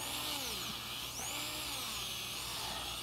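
Low-speed, high-torque dental handpiece polishing a CEREC restoration, a steady close whirring drone with faint pitch wavering as pressure is applied, running alone without talk.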